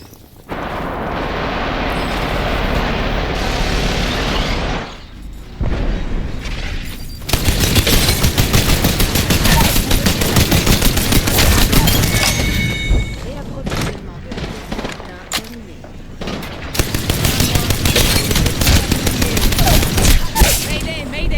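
Heavy gunfire rattles through a video game battle, dense bursts and explosive booms nearly continuous and loud, with someone talking over the action.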